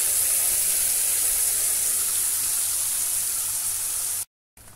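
Onion, garlic and tomato paste sautéing in oil in a kadai for cauliflower roast, a steady close hiss and sizzle that runs evenly, then cuts off abruptly near the end.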